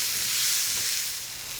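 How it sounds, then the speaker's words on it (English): Diced onion hits hot paprika-tinted oil for chicken paella, giving a steady, even hiss that stays at one level for under two seconds with no voices. "we're going to grab some of our onion, which we've diced up, and add that"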